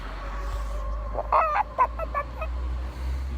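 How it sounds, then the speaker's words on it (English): Chickens cluck in a short burst of several calls, fairly close, over a steady low background hum. "Look at the chickens here."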